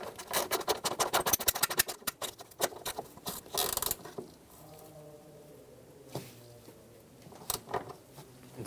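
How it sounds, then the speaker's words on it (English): A ratchet snugging down a bolt on the grille trim molding of a 1988–1999 GMC K1500 pickup, heard as rapid close clicking bursts followed by quieter scattered clicks. "Get the bolt started and snug it down."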